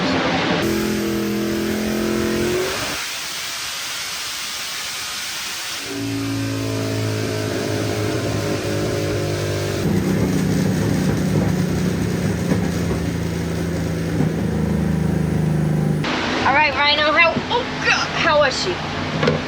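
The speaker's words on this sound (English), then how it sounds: "I'm pulling up to about 84, 8500 here on the chassis dyno." An engine on a chassis dyno revs through a high-rpm pull, its tone changing across the stretch under people talking nearby.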